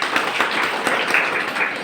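Applause from guests at a registry wedding ceremony: a short, steady burst of dense hand clapping with no voices over it.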